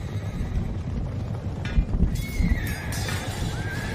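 Horses on a battlefield during a charge: hooves clopping and thudding under a steady windy roar, then a drawn-out, wavering whinny rising clearly above the noise.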